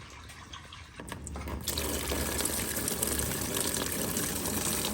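Water pours steadily into the cooling system of a 1990 Mazda Miata during a coolant flush, a continuous gushing fill that grows louder after a second and a half and runs on without talk.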